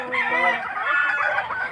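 Fighting roosters on a gamefowl farm crow and cluck in a dense, continuous chorus, several birds overlapping at close range.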